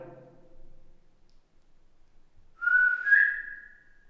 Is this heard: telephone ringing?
no